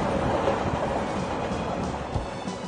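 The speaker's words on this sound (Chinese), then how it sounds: "再远一点是中欧班列，我们公司的产品就是通过这条铁道走出国门，走向世界。" A China-Europe freight train running along a railway line, a steady broadband rumble with faint rhythmic wheel clatter, continuous and fairly distant for the whole stretch, no voices.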